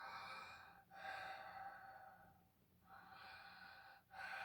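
A voices a soft, breathy imitation of light snoring, like someone just dozing off in deep meditation, with two or three slow, airy inhale-exhale cycles separated by brief pauses, close and quiet, with no other talk.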